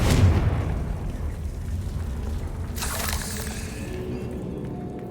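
A Confringo blasting spell explosion in Hogwarts Legacy, a loud booming burst at the start that trails into a rumbling, crackling decay, followed by a second softer whooshing blast midway.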